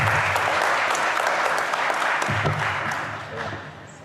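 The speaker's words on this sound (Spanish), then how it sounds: "La recibimos con un aplauso muy amables." A seated audience at a course session on political and social movements claps to welcome a speaker, a loud, dense burst of applause that holds steady and then gradually thins and fades toward the end.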